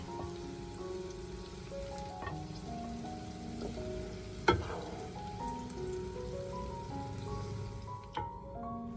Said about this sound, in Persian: توی همون تابه سیب زمینی، کدو و بادمجون رو میریزیم و شروع به سرخ کردنشون میکنیم.